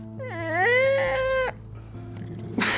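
A human voice imitates a cat being stepped on with a single drawn-out, rising and falling yowl lasting about a second and a half. A low steady hum and faint background noise follow it.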